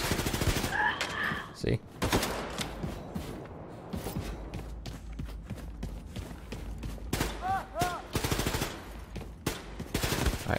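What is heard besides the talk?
SMG gunfire in video game Wolfenstein II: The New Colossus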